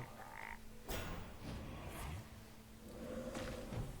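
A frog croaks in the Hearthstone card game, a few low, throaty croaks spread over a few seconds, quiet and mixed with game effects.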